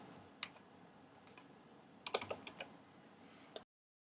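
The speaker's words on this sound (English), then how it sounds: "I'm going to type here, "Check out our cool website."" Text typed on a computer keyboard, irregular close keystrokes with a brief cluster of rapid taps near the middle, light and crisp over quiet room tone.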